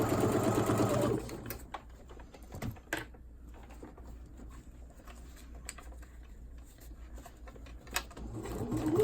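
A sewing machine top stitches a cloth diaper, its needle running in a short fast burst near the start, then stopping to quiet handling noises before a brief restart at the end.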